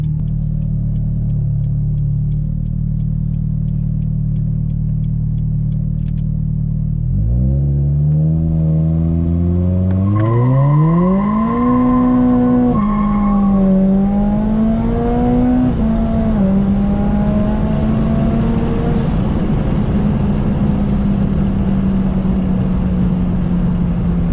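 A 400 whp Scion FR-S on new tires accelerates hard in a 0-60 mph run: steady idle rumble, then the engine climbs sharply through rising revs with gear shifts, a loud close engine note sustained to the end.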